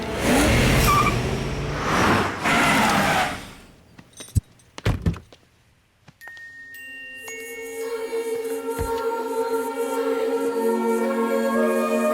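Cars in a Hindi-dubbed South Indian action film scene: loud roaring engines revving for a few seconds, then sharp door thunks and clunks before sustained dramatic music takes over.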